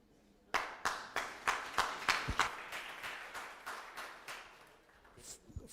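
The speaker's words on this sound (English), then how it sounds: "that was about half the room applauded" A partial audience at a town-hall style political meeting claps in a sparse, rhythmic burst of about a dozen distinct hand claps, fairly close, fading and thinning out toward the end.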